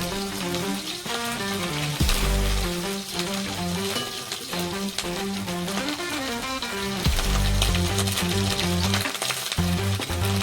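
Cumin paste fries in hot oil in a wok for a Bengali mustard fish dish, giving a dense, crackling sizzle with bursts of spattering and stirring, close and steady throughout, with no talking.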